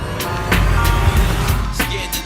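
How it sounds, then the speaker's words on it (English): A running car engine gives a steady, close low rumble throughout, with faint intermittent sounds layered on top. "The car's on."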